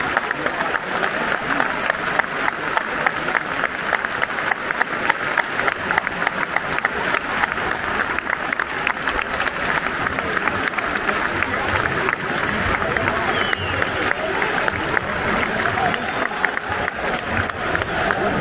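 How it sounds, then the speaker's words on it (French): A stadium crowd at a Le Havre versus Marseille Ligue 1 football match applauds steadily through a minute of applause in tribute, with visiting Marseille fans joining in. The dense clapping stays loud and even throughout, with indistinct voices mixed into the roar. "très belle minute d'applaudissements, comme je le disais, repris par le stade Océane, mais également par le parkage marseillais."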